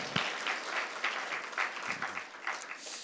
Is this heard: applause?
yes